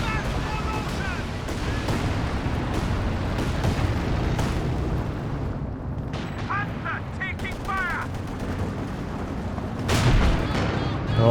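Grenade blasts and gunfire from a Company of Heroes 2 match, with steady booming and crackling battle noise throughout and a heavier explosion swelling near the end, under a commentator's voice.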